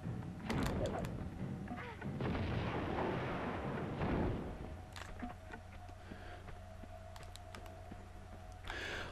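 Pistol gunfire from Lara Croft in Tomb Raider II inside the Dragon's Lair, a cluster of sharp, loud shots early on, then quieter game ambience with a few faint clicks and no talking.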